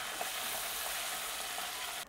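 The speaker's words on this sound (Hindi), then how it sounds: "तो इसी तरीके से हम बची हुई फ़िश को भी फ्राई कर लेंगे।" Fish frying in hot oil crackles with a dense, even sizzle close by that holds steady and then cuts off abruptly at the end, with no voices.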